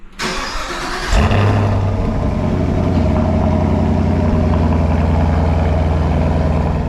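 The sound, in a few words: V8 car engine exhaust revving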